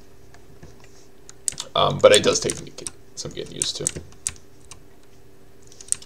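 Computer keyboard keys are typed in quick bursts during PC play of Minecraft, the clatter mixing with someone talking briefly in the middle, over a low steady hum.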